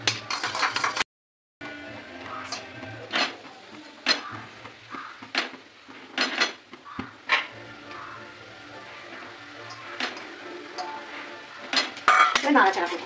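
Veg chowmin stirred with soy sauce in a pan: utensils scrape and clatter against the metal in repeated strokes, with a faint sizzle beneath, close and moderately loud, no talking.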